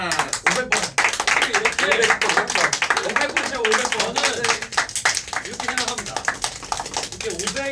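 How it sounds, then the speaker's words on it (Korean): A small group of K-pop idols clap together to celebrate 500 days on a live stream, sharp uneven claps mixed with excited voices talking and cheering close by. "500일을 기념해가지고 박수 한번 칠까요?"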